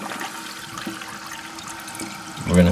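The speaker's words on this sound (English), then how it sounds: "I'm going to turn the water on." Water rushes and trickles steadily into a toilet tank as it refills after a new flapper is fitted, loud and close, swelling slightly at the end.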